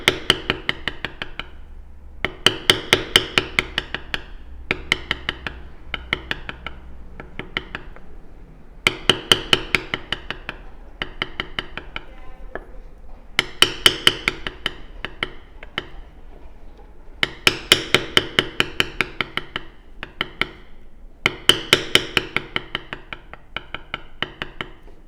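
Repeated sharp taps of a mallet on a leather shading tool, working a petal design on a card holder: quick bursts of close, crisp strikes separated by brief pauses, with no talking.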